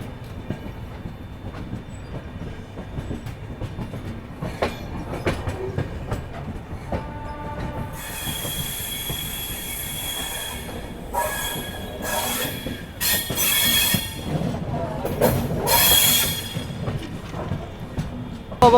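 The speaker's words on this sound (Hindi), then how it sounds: "फिलहाल जो है अपनी ट्रेन का डिपार्चर हो चुका है लक्सर जंक्शन से" An express train pulls out of Laksar Junction, wheels rumbling and clattering on the rails with bursts of high metallic squeal, loud and continuous throughout.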